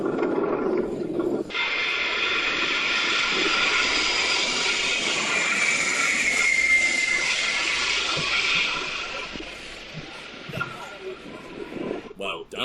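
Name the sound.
Antonov 225 aircraft landing in crosswind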